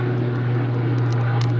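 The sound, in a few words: airplane flying overhead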